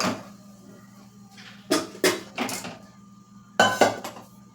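A spoon scrapes and clanks inside a pot of kadhi as it is stirred, giving several close, distinct metallic scraping strokes in two quick clusters over a quiet kitchen background.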